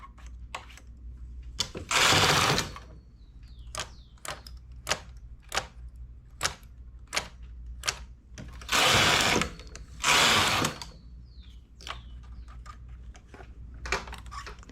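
Knitting machine with a ribber making ribbed rows with held stitches: sharp clicking needle and lever sounds in an irregular rhythm, broken by several loud rasping carriage passes sliding across the bed, close and clear.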